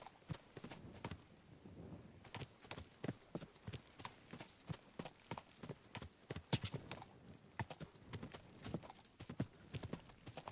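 Quick, steady clip-clop of horse hooves trotting on a hard surface in the video game Kingdom Come: Deliverance II, a continuous rhythmic patter over a soft background hiss.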